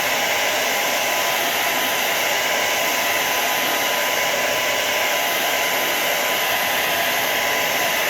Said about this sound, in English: I'm going to hit it with the hair dryer again.